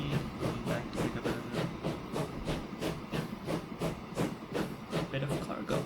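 A train in the game Transport Fever 2 rolls along steadily with rhythmic clickety-clack beats and a hissing, steam-like wash, continuous over the whole stretch while a voice talks over it.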